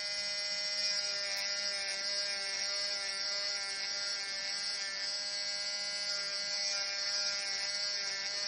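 Electric nail drill with a flame bit working along the cuticles during gel nail plate prep, a steady high-pitched whine that holds its pitch with slight wavering, close and continuous, no talking.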